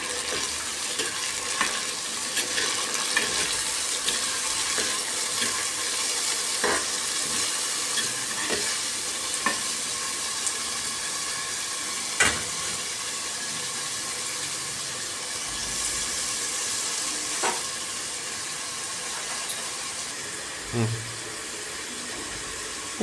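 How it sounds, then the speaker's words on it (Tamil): Chopped tomatoes sauté and get stirred in a hot pan while cooking a Kerala-style red pomfret fish fry, a steady close sizzle with scraping stir strokes and occasional clinks throughout. "தக்காளி போட்டுக்கலாம். நல்லா வதக்கிக்கணும்."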